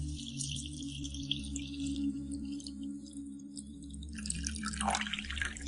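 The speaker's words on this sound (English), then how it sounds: "And then it's ready to be poured up in cups." Forest tea brewed from pine needles is poured into cups, a light trickle with drips and splashes over a steady low hum, growing brighter near the end.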